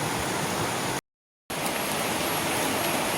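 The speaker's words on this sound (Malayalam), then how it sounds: "നല്ല മഴയാണ് കേട്ടോ" Heavy rain pours in a steady, dense hiss that cuts out completely for about half a second before resuming just as strongly.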